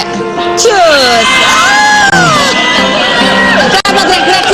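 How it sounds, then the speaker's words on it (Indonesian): Children and a studio crowd shout and cheer loudly at close range, a dense, continuous burst of excited high-pitched voices with whoops. "Kenapa teriak-teriak sih?"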